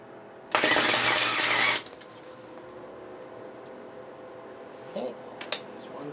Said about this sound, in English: one tack weld